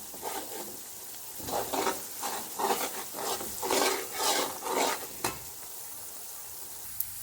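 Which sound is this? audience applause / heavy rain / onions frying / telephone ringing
onions frying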